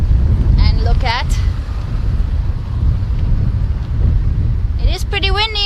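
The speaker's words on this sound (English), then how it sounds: "It is pretty windy on the island today." Strong, steady wind gusting across Key West island in the days after Hurricane Ian, a continuous low roar buffeting the microphone, with bursts of birdsong and a voice briefly breaking through.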